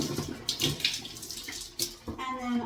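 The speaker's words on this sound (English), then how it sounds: "And I just kind of pour the water down." Water poured from a bucket splashes down onto shower wall tile in a few close, uneven gushes and bursts, with no talking over it.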